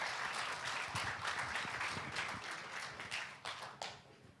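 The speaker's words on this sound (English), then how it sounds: "maybe a quick round of applause for the panel." An audience at a conference panel session gives a quick round of applause, a steady wash of many hands clapping at moderate volume that thins and tapers off toward the end.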